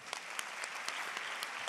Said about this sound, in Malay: Satu tepukan kepada yang berhormat.